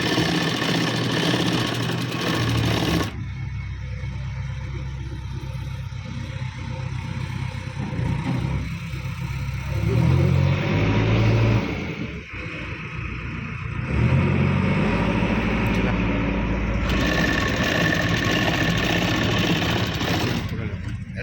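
A sewing machine stitching a can-can border onto the hem of a pleated fabric lehenga, a steady close motor whir with rapid needle clatter that runs almost continuously and changes speed slightly.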